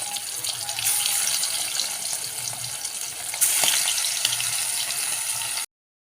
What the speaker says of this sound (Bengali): সর্ষের তেল গরম করে মাছগুলোকে হালকা করে ভেজে নেব